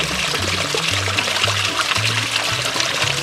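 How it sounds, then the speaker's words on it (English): Water trickling and pouring in a steady, continuous stream, close and fairly loud, with no voices over it. "If you heard water trickling, that's what you've been hearing this whole time."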